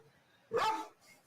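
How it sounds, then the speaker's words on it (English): A dog barks once, a single loud, close bark that rises sharply and fades within half a second, followed by quiet room sound. "Dog's gonna bite your face."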